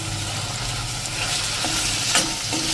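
Chopped green garlic and green onions stir-frying in a pan for brinjal bharta, a steady close sizzle with scraping stirs and a sharper clatter near the end, no voices.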